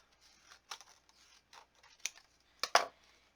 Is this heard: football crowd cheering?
no